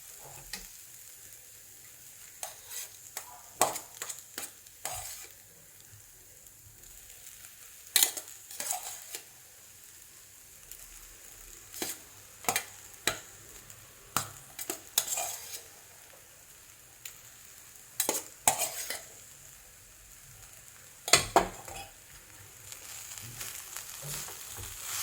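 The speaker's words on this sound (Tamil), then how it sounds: "இனி நமக்கு ரைஸ் போட்டு கிளறலாம்." Rice and amla stirred in a frying pan, with a steady soft sizzle under repeated sharp scrapes and clinks of a spatula against the metal pan throughout.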